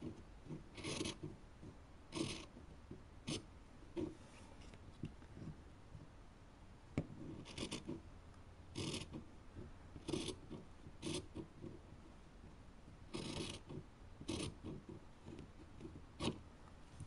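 Scissors cut through fabric for a small toy horse blanket, a series of quiet close snips and rasping slides repeating irregularly along the edges, with no voices.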